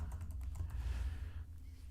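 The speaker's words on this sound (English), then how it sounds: "I can't type at all when my mic is in the way of my keyboard." Computer keyboard typing during a football post-match chat, a fast run of soft, close key clicks over a low steady hum, fairly faint throughout.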